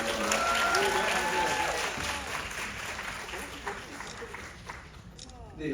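Audience applause breaks out at a guest stage event of the Bucheon International Fantastic Film Festival at Bucheon City Hall's outdoor plaza, loud at first and then thinning over a few seconds, with voices mixed in.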